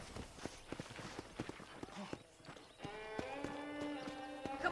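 Horse hooves clip-clop at a steady walking rhythm in the Red Dead Redemption video game, with a faint low bed of music and ambience underneath.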